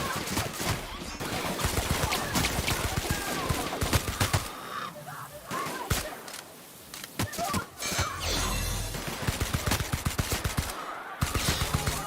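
Gunfire in The Outer Worlds video game, rapid bursts of shots and sharp cracking impacts coming in dense clusters, pausing briefly before resuming loud and close.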